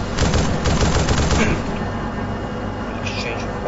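Rapid bursts of automatic gunfire in a competitive video game match, dense rattling volleys in the first second and a half, then thinner scattered shots under a commentator's voice.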